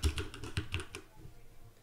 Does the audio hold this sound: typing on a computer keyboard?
yes